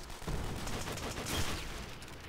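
Artillery strike landing in Call of Duty: World at War multiplayer, a dense rumbling barrage of blasts and crackling impacts that swells around the middle and stays fairly distant and steady.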